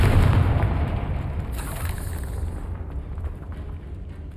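The Confringo explosion spell in the video game Hogwarts Legacy, set in an old catacomb: a loud deep blast at the start that decays into a rumbling, crackling tail, no talking.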